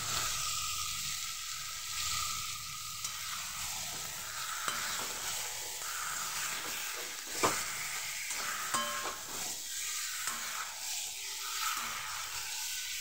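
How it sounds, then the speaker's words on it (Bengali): Goat mutton curry in a wok is stirred with salt, a steady sizzling hiss of frying with scraping and clinks of the spoon against the pan, fairly quiet and continuous, with no talk. "লবণটা দিয়ে ভালো করে মেশাবো"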